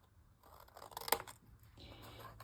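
Scissors cutting paper along a score line for an Easter egg craft, a quiet, brief snip with light crinkling close by and no speech.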